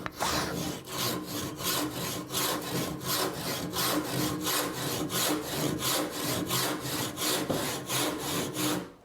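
A hand saw cuts through wood in steady back-and-forth strokes, roughly two rasping passes per second, close and even throughout with no talk.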